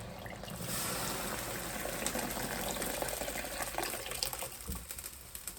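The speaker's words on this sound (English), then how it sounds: "We're going to add this water in. Cold water straight away." Cold water pours steadily into a container with a continuous splashing gush, close up, with no voices.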